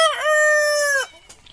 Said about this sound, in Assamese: এই মুৰ্গী এটাৰ বয়স 6 মাহ।